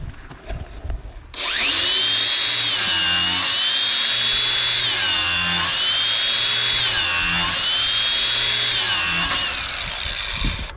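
A knife sharpener grinds blades in a continuous loud, harsh whine with a shrill metallic ring, starting abruptly after a moment of quieter handling and holding steady with slight rhythmic surges throughout.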